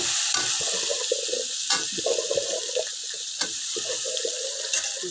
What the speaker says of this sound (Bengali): নেড়ে দিই।